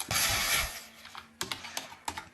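A computer keyboard being typed on, a quick flurry of clicky keystrokes at first, then a few separate, close taps spaced apart.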